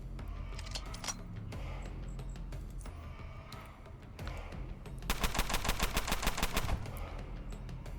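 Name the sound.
gunfire in the video game Underrail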